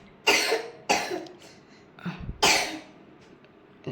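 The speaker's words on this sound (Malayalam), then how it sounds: "ഓ ചുമക്കണടാ." A child coughs in several sharp, close bursts with short pauses between them, indoors during a Vishu morning ritual.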